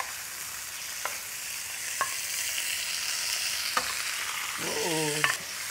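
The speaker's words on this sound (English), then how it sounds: "So you see, we're just searing our meat." Beef strips for a stir-fry sear in hot, spattering oil, giving a steady close sizzle broken by a few sharp pops and a brief scrape near the end.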